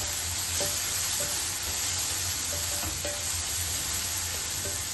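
Continuous sizzling and frying in a hot pan of spices with salt and turmeric for a small-amaranth greens dish, with occasional light clinks of a utensil stirring, steady and close.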